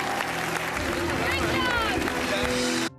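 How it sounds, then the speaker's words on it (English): A small audience gives a weak, sparse smattering of claps, with crowd murmur and talk over the top, ending abruptly after about three seconds. "that's like a pity clap for sure"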